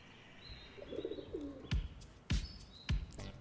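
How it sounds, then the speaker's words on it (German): Pigeon in the Espresso Tycoon video game giving a short soft coo, followed by three sharp thumping taps and faint high chirps, quiet and close, with no talking. "a caffeinated pigeon is definitely something new"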